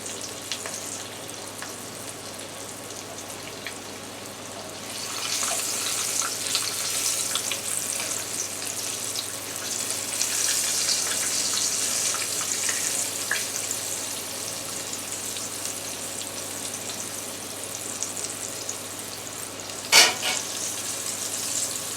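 Southern-style okra fries in a pan with a steady, broad sizzle that swells louder after a quiet start and holds close and even, with one brief sharp clack near the end and no talking.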